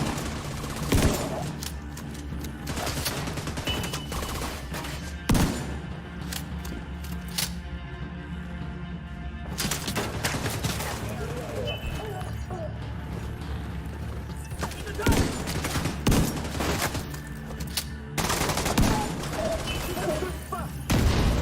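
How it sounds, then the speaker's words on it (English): Double-barrel shotgun fire in The Division 2 on Xbox, scattered heavy blasts amid continuous in-game gunfire and booms, with a mechanical clatter underneath, loud and dense throughout. "My double barrel shotgun."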